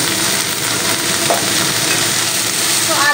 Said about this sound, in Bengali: এইবারে আমি ভেজে রাখা আলুগুলো দিয়ে দিলাম।